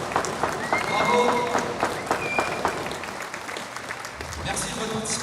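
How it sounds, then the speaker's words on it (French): At an award ceremony for a sixth-place team, the crowd breaks into sustained applause with cheering and voices mixed in. "on peut applaudir"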